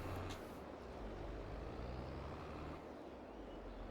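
A truck hauling a trailer in Farming Simulator 22 gives off a faint, steady engine rumble with a low droning hum throughout, and no voices are heard.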